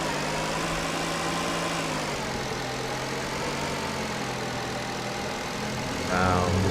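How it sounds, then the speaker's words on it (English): A loud car engine idles steadily in Car Dealer Simulator, a constant low rumble that holds for several seconds before a brief surge near the end, with no talk over it. "this car is gross and loud"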